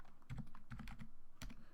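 Several quick keystrokes on a computer keyboard while entering a command in a Linux terminal, close and crisp in short bursts with a brief pause before one last key.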